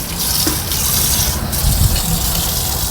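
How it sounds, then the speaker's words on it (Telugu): Water gushing and splashing steadily as it pours into an aquarium tank, loud and close, with a brief gurgle midway. "అందుకని నేను అక్కడి వరకే నీళ్ళు పోస్తాను"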